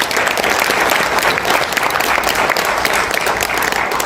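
A crowd at a civic rally gives loud, continuous applause, dense and unbroken throughout.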